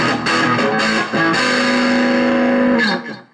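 A single guitar note played through the distortion channel of a Beta Aivin BM-6 portable amp, with a buzzy fuzzed attack, a few quick picked notes, then one sustained wavering tone that fades out after about three seconds.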